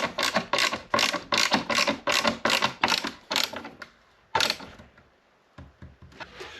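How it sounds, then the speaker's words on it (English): Ratcheting screwdriver driving screws into a wooden paddle for a dinghy, a rapid series of close clicking ratchet strokes, then a pause and a few more scattered clicks. "I'm just going to use a normal screwdriver to stick those in."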